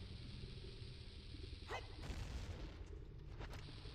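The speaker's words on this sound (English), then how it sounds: "I think it had to do a timed explosion." Timed bomb going off in a Zelda video game, a single muffled boom with a brief whoosh partway through, followed by a softer second burst, set against steady game background noise.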